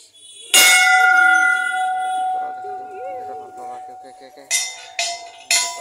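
An old temple bell at Tilinga Mandir, Bordubi, Tinsukia, Assam, is struck with a sharp metallic clang and rings out with a long sustained hum, then three more quick strikes follow near the end, with people talking underneath.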